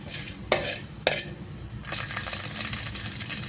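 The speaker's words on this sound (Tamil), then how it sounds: "நம்ம எடுத்து வச்சிருந்த சீரகத்தை இப்படி ஒரு பிச்சு சேர்த்துக்கலாம். நல்லா இப்படி வறுத்து விட்டுக்கோங்க" Cumin seeds roasting in a pan: two crisp metallic clinks early on, then a soft, steady crackle of toasting seeds that carries on to the end, close and quiet, with no voices.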